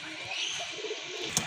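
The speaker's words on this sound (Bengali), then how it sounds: "মাশাআল্লাহ দেখেন আরেক জোড়া কবুতর" A pair of pigeons cooing softly at a bird seller's, giving a faint low warble with a brief chirp near the end and a little background noise.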